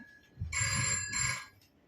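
A household telephone rings with two close, bright electronic bell bursts, clear and fairly loud, each lasting about half a second, with no talk over them.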